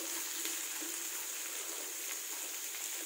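Beetroot and a split green chili fry in hot oil with a steady, fine hiss and light crackle that stays even throughout, fairly quiet, with no voices.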